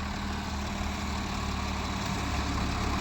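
A tractor's heavy diesel engine idles at a tractor tug-of-war contest, with a steady low rumble and throb, constant and close, with no talking.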